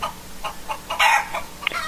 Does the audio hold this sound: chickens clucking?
yes